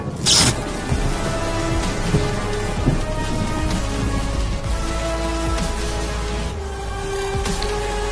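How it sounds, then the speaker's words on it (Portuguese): A sudden thunderstorm opens with a sharp, loud thunder crack, then heavy rain pours steadily with low rumbling thunder underneath, close and continuous, with no voices. "do nada começou a chover porque não estava chovendo e caiu um raio"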